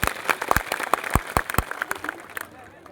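An audience claps for seated saints at a community gathering, a short burst of distinct, fairly sparse hand claps that thins out and fades within about two and a half seconds.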